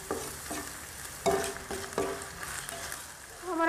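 Minced meat keema cooking in a pan, a moderate close sizzle with several distinct scraping and tapping strokes of a spoon against the pan.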